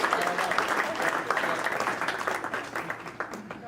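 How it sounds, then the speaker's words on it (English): A roast audience claps for a woman called up to show a Highpointers tattoo, a steady moderate patter of hands that runs the whole clip with faint voices mixed in. "Come on, applause for her."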